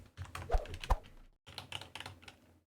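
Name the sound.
typing on a computer keyboard while playing Cook, Serve, Delicious! 3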